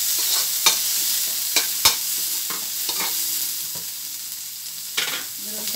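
Tomato stir-fried in a hot pan with onion, for mixed vegetables with chicken and tofu, gives a loud continuous sizzle broken by repeated spatula scrapes and knocks against the pan.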